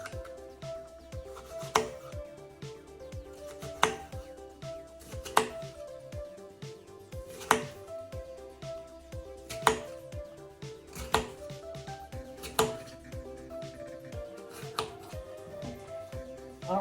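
A Joie slicer kitchen gadget cuts through a tomato, giving a steady close series of chopping knocks with a few louder thuds spaced a couple of seconds apart, and no talking.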